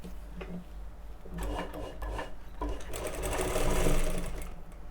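Sewing machine stitching seams on a women's jacket, a steady close mechanical whirr with bursts of rapid needle clatter that swell louder toward the end, with fabric rubbing and handling noises between runs.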